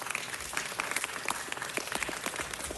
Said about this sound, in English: they deserve a big round of applause for making this possible